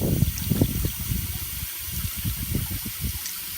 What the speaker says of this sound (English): as I'm filling it from here